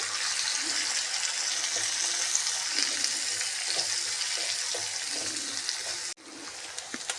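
Thinly sliced onions fry in a pan for a mushroom curry gravy, giving a steady, close sizzling hiss dotted with faint pops, cut short by a sudden break near the end.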